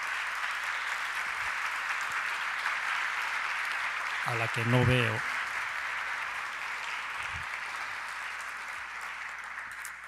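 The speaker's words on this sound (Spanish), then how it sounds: "Un aplauso para Cristina" An indoor audience applauds for Cristina Algarra at a talk, a steady wash of many hands clapping throughout, with a voice speaking briefly over it partway through.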